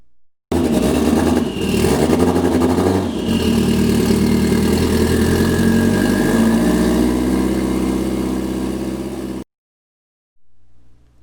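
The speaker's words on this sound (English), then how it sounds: "Let the sled idle" A Yamaha Apex snowmobile fitted with a BoonDocker turbo idles steadily and loudly up close, a constant engine drone that rises slightly near the start and then cuts off, followed by a faint noise.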